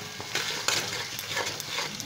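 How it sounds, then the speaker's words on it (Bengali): Fried potatoes are stirred into a fish curry in a pan, giving a soft, continuous sizzle with a few light scraping strokes, close by and faint, without speech. "আলুগুলো এর সাথে একটু ভালো করে আবার মিশিয়ে নেব।"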